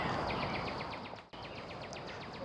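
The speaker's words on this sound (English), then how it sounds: "so you guys can listen to the birds" Small woodland birds chirp in a steady run of short repeated notes, moderately close, over a constant wash of evening ambience in a Washington, D.C. forest, with one brief dip midway.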